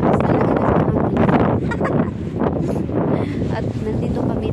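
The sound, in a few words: strong wind blowing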